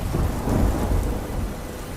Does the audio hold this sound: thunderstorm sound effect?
yes